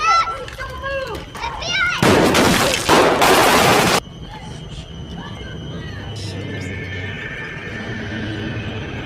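A film scene of a drug cartel gang war has a burst of loud gunfire lasting about two seconds, broken by a brief pause, then fading into a quieter tense soundtrack after children's voices at the start.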